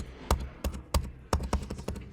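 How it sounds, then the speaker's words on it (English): A computer keyboard key is tapped repeatedly during CG animation software work, giving six or seven sharp, close clicks in an uneven rhythm. "So I'm just hitting the Z key to undo some steps."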